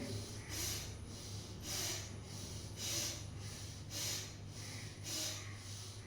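Rhythmic breathing, with about five broad airy exhalations spaced roughly a second apart, close and steady over a low background hum.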